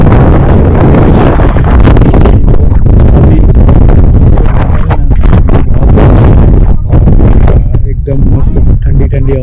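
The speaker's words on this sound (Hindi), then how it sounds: "ठंडी हवा चल रही है पीछे" Strong, cold wind buffeting the microphone outdoors in loud, continuous gusts, with rustling mixed in throughout.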